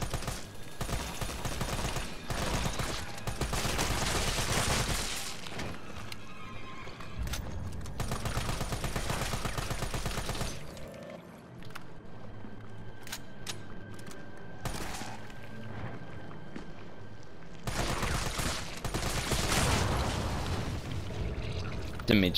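Gunshots in Resident Evil 3, loud repeated firing in bursts with quieter gaps between them, mixed with game noise and a voice talking at times.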